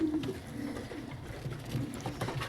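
Domestic zawajil pigeons, a red two-barred type, coo in low, soft, repeated throaty calls close by, with faint rustling in the background.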